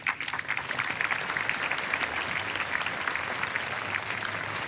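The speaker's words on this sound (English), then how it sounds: "Let's give it another round of applause to Sister Nelly." Steady applause from a ceremony audience at the Zayed Award for Human Fraternity, a dense, even clatter of many hands that continues without a break throughout.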